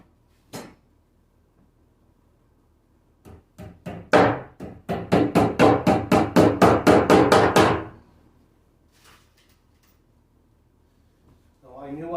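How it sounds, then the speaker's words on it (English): Hammer blows drive nails into pre-drilled wooden shelf boards while a hidden door frame is built: a few scattered strikes, then a rapid, loud, even run of about a dozen close blows before quiet. "We're just going to nail these in now."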